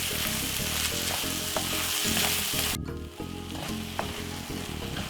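Corned beef frying in a pan for a Jamaican-style dish, a strong continuous sizzle with repeated scraping stirs of a utensil, then the crackle drops sharply quieter partway through; no talking.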